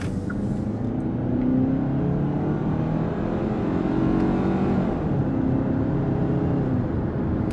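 A 2022 Hyundai Tucson XRT AWD engine revs past 5,000 RPM, giving a loud, sustained droning roar that holds steady throughout with no talking.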